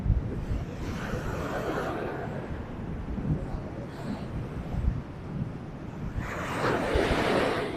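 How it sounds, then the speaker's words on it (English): Wind buffets the microphone over rolling surf at Lady's Mile Beach in Limassol, Cyprus, a continuous loud roar with gusts swelling near the end. "The wind direction is constantly changing today"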